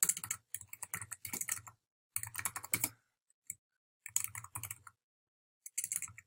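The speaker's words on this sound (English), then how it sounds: "Type in my password, my email address" Someone types a password and email address on a computer keyboard, producing close, crisp bursts of rapid key clicks separated by brief pauses.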